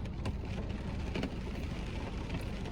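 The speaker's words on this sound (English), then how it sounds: "sorry about the rain. It's raining." Rain falling outdoors, a steady soft hiss with scattered patters and drips throughout, fairly faint and unbroken, with no voice over it.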